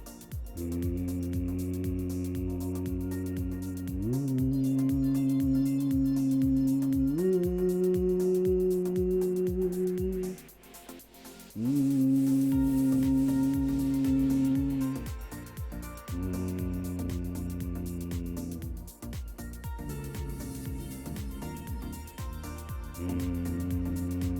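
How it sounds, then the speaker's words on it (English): A singer hums with closed lips through a vocal warm-up, holding a series of steady, resonant tones that step up and down in pitch, each several seconds long, close and loud with a brief pause midway. "So with our lips closed, let's hum like how we hum in songs."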